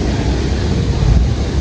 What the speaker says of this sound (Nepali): सल्ली बजारमा हावाहुरी आएको छ